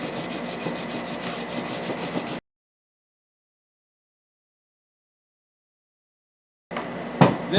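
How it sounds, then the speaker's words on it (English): Sandpaper rubbing off excess on a new wooden axe handle, a close scratchy rasping for a couple of seconds, then silence, then brief renewed rubbing and handling noises. "next thing I do is I just sand off whatever excess might be"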